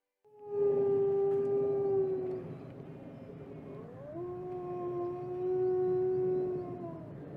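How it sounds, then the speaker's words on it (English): A lone wolf howls in long, drawn-out tones that hold steady, dip, then rise again into a second sustained howl, clear and fairly close, with no other sounds around it. "The eerie and haunting howl of the wolf is a sound that will send shivers down your spine."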